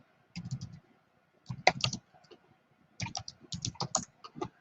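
Fingers tap a computer keyboard in short bursts of quick clicks separated by brief pauses, close and fairly quiet, with no speech.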